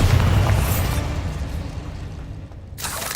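A Bombarda spell explosion in the video game Hogwarts Legacy, a loud, deep booming blast that rumbles and fades over a couple of seconds, followed by a brief sharp burst of noise.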